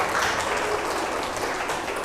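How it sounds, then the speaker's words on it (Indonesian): Classroom applause for a student named Dian: steady, dense clapping from many hands, fairly close and sustained evenly throughout with no talk over it. "Tepuk tangan sekali lagi untuk adik kita Dian."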